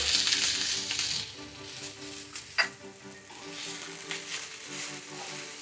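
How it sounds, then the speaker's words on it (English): Onion and garlic sizzling in a pan as rice vinegar hits them, a bright hissing burst at first that settles into a steady fry, with a sharp utensil scrape midway. "We're going to deglaze this with 1 tablespoon of rice vinegar"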